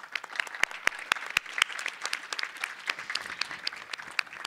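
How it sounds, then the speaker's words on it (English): An audience at a conference session on South-South and triangular cooperation applauds its panelists: a short burst of scattered, fairly soft clapping from a room. "please do give a very big round of applause for our panelists for their precious"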